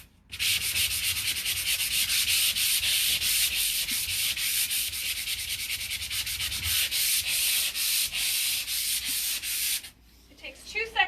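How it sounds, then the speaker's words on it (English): Steady rapid scratching of sandpaper working away a gouge in a painted furniture surface before repainting, close and loud with a rhythmic back-and-forth texture for about ten seconds, then stopping abruptly. "It's just easier to sand it away now than to have it keep coming through your paint."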